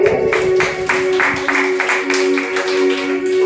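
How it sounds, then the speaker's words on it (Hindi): Audience clapping at a Shrimad Bhagwat discourse in Dwarkapuri, a steady patter of hands with a sustained droning tone underneath, moderately loud and continuous throughout, with no talking. "एक बार जोरदार तालियां मारो।"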